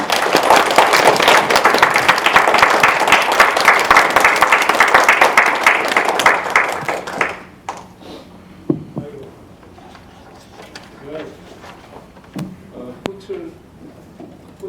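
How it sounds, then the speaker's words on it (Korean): A lecture audience applauds to welcome a professor to the stage. The clapping is loud and sustained for about seven seconds, then fades to scattered shuffling and faint noises. "우리가 큰 박수로 이재영 교수님 모시도록 하겠습니다."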